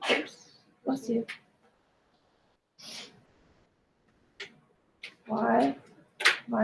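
A single sharp sneeze bursts out in a quiet room during a spoken math lesson, amid the teacher's speech.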